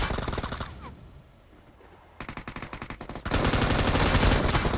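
Gunfire in PUBG Mobile comes as rapid bursts of automatic fire, broken by a short quieter gap before a sustained loud volley, close and intense.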